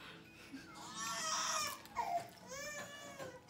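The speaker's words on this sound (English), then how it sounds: "Y'all got kids crying in the back?" Children crying and sobbing in the background of an indoor Taco Bell mukbang, a wailing cry rising and falling over a few seconds with no clear talk over it.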